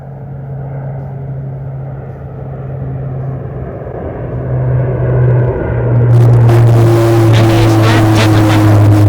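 A loud, steady jet-engine roar from an Indian Air Force aircraft flying overhead in level flight at a firepower demonstration, building in intensity and turning harsher toward the end. No other sounds are present.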